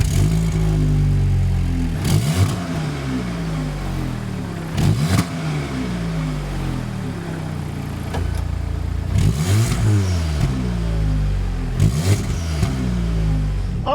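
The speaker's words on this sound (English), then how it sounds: "Now, after first startup, I noticed the car is a bit louder." A Golf R engine fitted with an upgraded stage 2 downpipe exhaust runs loud and near, building through repeated revs with sharp crackles and bursts between them, rising and falling over a steady low drone.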